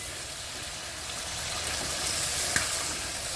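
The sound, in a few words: chicken curry meat frying and crackling in oil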